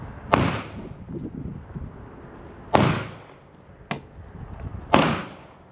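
Glock pistol fitted with a Trigger Shark trigger fired outdoors, four sharp loud shots at irregular intervals, each with a short decaying echo, and no talk between them.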